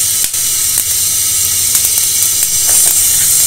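Ghee heats in a pan for jackfruit seed halwa, giving a loud, continuous close hiss and sizzle broken by a few light pops.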